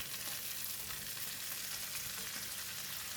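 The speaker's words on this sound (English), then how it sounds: "In the same pan, add in all the Chinese cabbage stems." Chinese cabbage stems stir-frying in hot oil in a pan: a dense, steady sizzle and crackle, close and continuous, with no voices.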